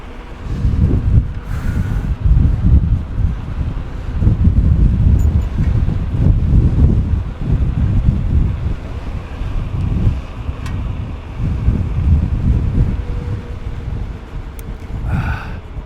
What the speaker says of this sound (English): I wonder if it's gonna work, this microphone in a wind like this